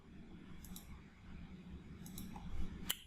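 A computer mouse clicks while editing AdSense ad settings, a few faint, sharp taps spread over a quiet background, the last one slightly louder.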